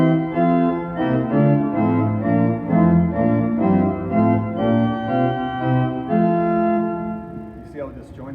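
A familiar hymn plays on a sanctuary pipe organ, its chords played in a choppy, detached piano style with audible gaps between sustained notes, moderately loud and alone, ending with a short noise.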